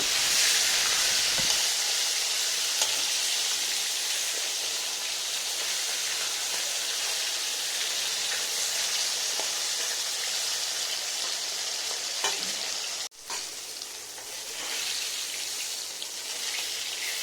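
A steady, loud sizzling hiss of rohu fish pieces frying in hot oil, continuous throughout with a brief dip partway through.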